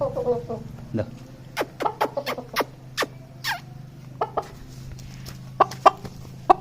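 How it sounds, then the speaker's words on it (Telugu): A rooster makes short, sharp clucks in irregular bursts close by, over a low hum, while someone talks quietly in the background. "మా కోడిపుంజు కోడిపుంజు చూడండి ఎంత ఫ్రెండ్లీగా ఉంటుందో"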